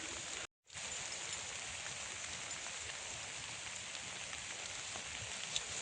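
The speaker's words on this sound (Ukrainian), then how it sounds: "Ого, дощ який." Steady rain patters down continuously in a forest, a soft even hiss of drops falling on surfaces, broken only by a brief silent gap near the start.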